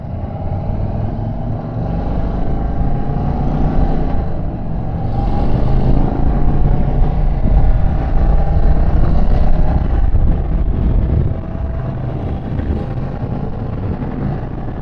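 Indian Sport Chief motorcycle cruising on a freeway in fourth gear, engine rumble loud and steady under rushing wind, with a slight rise and dip as the rider prepares to shift.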